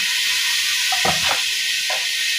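Onions frying with garlic paste and ginger paste in a pan give a loud, steady sizzling hiss close by, broken by a couple of brief stirring scrapes.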